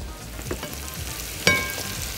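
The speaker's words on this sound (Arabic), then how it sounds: "نزل الفراخ، هنزل بس دلوقتي 3 حتت" Chicken pieces are lowered into a pot of hot oil, giving a soft steady frying hiss with a sharp splash-crackle midway as a piece goes in, then continued quiet sizzling with no talking.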